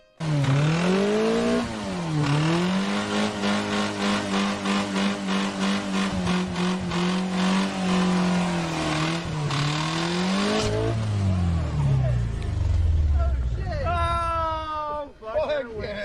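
A Honda Civic holds a loud, stuttering two-step launch-control rev limiter with popping bursts, then launches hard and pulls away, with the engine note dropping and rising as it shifts. People shout and cheer nearby.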